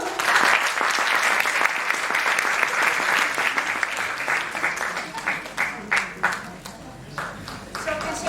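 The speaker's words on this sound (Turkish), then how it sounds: "Bir kocaman alkış alalım." Audience applause at a plaque and flower presentation ceremony during a concert, a full round of clapping from the hall that gradually thins into scattered individual claps near the end.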